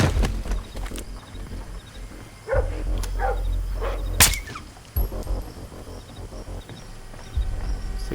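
Dog barking in the video game Splinter Cell Blacklist: a handful of short, fairly near barks spaced over several seconds against a low rumbling game ambience, with no talk.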